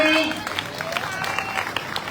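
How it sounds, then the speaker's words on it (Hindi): An audience at a welcoming ceremony on a religious yatra in Rajasthan claps in a lively, uneven patter, heard under a voice talking over it throughout. "तालियां बजती रहे"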